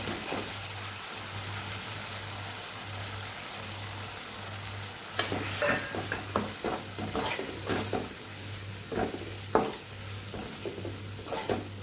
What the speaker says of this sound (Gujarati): અહીંયા હવે આપણે લોટને ઉમેરી દઈશું